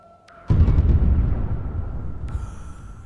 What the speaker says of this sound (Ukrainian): Давайте кинемо сюди атомну бомбу, спробуємо